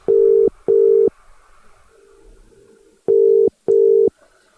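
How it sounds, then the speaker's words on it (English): A telephone ringback tone sounds during an outgoing call, two pairs of loud steady electronic beeps separated by a quieter pause, close and clear. "Yeah, well, I can hear the phone ringing."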